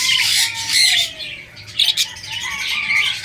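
Pet parakeets, including an olive green pearlback Hagoromo, squawk and chirp in a backyard as they gather to eat vegetables, with repeated sharp calls overlapping throughout and no talking.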